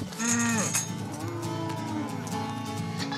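Cows on an American mega farm, with several loud moos and bellows from nearby animals over a busy barnyard background.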